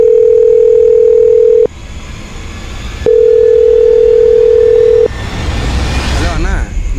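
Telephone line tones sound while a conference call is being set up: two loud, long steady tones separated by a short gap, then a burst of rustling handset noise.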